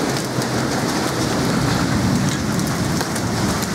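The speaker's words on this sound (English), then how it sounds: "there's some decent sized chunks of hail there." A November thunderstorm at Bundamba with hail and heavy rain, a dense, even hiss of rain and falling ice hammering surfaces nearby, steady and loud throughout with no talking.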